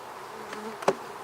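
Honeybees buzzing at an open beehive during an inspection, a faint hum with one brief louder buzz as a bee passes close by.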